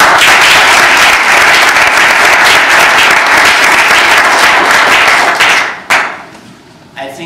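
An audience at a speech evaluation contest applauds loudly and densely for about six seconds, then the clapping quickly tapers off into a few scattered claps.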